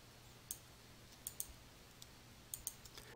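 Mouse clicks selecting files in Adobe Acrobat: a sparse series of short, faint, crisp clicks, some in quick pairs, in an otherwise quiet room.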